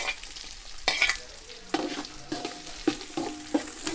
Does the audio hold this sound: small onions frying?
yes